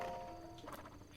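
Horse hooves clip-clop softly in Zelda: Breath of the Wild, a few quick light steps heard faintly under game music tones.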